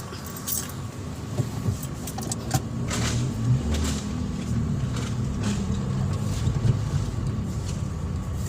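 A 2012 Toyota Vios that struggles to run and lacks pulling power, out on a test drive: a steady engine and road rumble with light rattling and jingling on top, continuous and fairly close.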